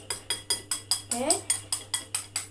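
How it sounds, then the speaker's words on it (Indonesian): Quick, evenly spaced clinks of a whisk beating oil inside a glass measuring cup repeat about five times a second, close by, with a brief spoken word in the middle. "cukup dikocok seperti ini saja ya"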